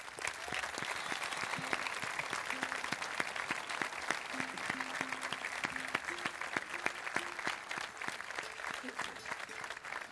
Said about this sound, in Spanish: Para los bailadores, que suene fuerte ese aplauso.